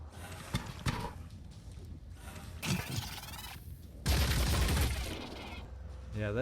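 Gunfire aimed at a worm in the video game Phoenix Point comes as several bursts of rapid shots with sharp cracks and shattering impacts between quieter gaps, fairly faint overall.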